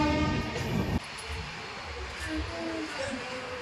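Sealdah Rajdhani Express train crossing Tilak Bridge, a steady loud rumble of wheels and carriages with a horn-like tone early on, continuing without a break.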